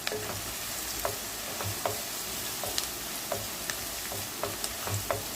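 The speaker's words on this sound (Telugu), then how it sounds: "దినుసులన్నీ ఇలా ఫ్రై చేయండి." Spices and curry leaves fry in a pan with a steady close sizzle, punctuated by regular light scrapes and taps of a spoon stirring every second or so, with no talking.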